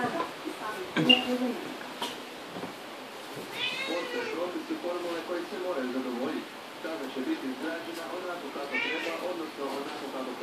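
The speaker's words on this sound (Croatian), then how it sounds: "Maca." A cat meows repeatedly in short, nearby calls, while someone talks over and between them.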